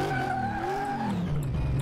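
A powerful race car in a video game skids with a sustained tire squeal over steady engine drone, close and loud, no voices.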